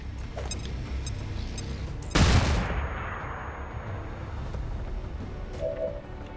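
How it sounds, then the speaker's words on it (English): A flashbang grenade detonates in XCOM 2 Long War 2, a single sharp loud bang with a bright crack that decays into a long fading ring over quiet ambience. "Flashbang is probably going to be best at this point."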